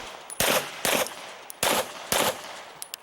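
Pistol shots from a shooter running a stage at an IDPA match at Charlotte Rifle & Pistol Club, four sharp loud reports in uneven spacing, some in quick pairs, with faint clicks between and no talk.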